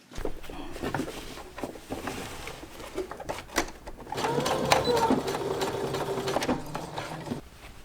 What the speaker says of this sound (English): we're gonna sew right here to secure the short side of the pocket